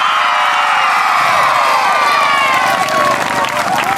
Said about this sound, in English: give him a big cheer